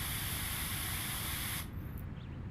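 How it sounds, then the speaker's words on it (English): Soap sprays from a pressure washer in the Power Wash Simulator VR game, a steady broad hiss that runs loud and continuous, then cuts off abruptly near the end, leaving quieter residual noise. "Spray some soap on it."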